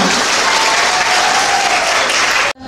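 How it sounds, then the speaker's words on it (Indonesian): An indoor church youth-day audience claps together in dense, sustained applause that stops abruptly near the end. "Beri tepuk tangan untuk kita semua."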